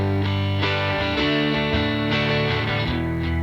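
A second indie rock guitar plays a grooving riff, a dense, slightly distorted pattern of repeated chords and notes, loud and up close with no talking.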